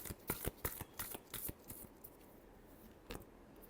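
Tarot cards are shuffled in a quick series of soft, sharp flicks and riffles, faint and close, with a pause before a few final snaps.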